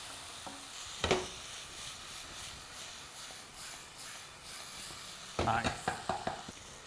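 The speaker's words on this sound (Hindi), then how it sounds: "टमाटर को हाई हीट पे हमने भूनना है, टोटली मैश नहीं करना, क्विक स्टर" Tomatoes sizzle in a pan over high heat, with a low, steady frying hiss and two bursts of scraping as they are stirred quickly.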